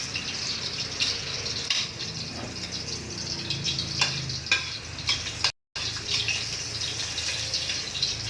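Garlic frying in a pan for a home-cooked lunch dish with moringa, giving a steady close sizzle with occasional stirring scrapes and a brief gap of silence midway.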